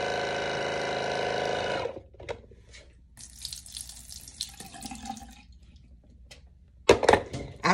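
A Sonicare Waterpik water flosser hums with a steady, buzzing motor for about two seconds and then shuts off. Faint water trickling, dripping and a few louder splashes follow.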